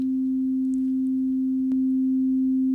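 A pure sine test tone holds perfectly steady and loud from start to finish, with a faint click partway through and a quiet low background beneath it.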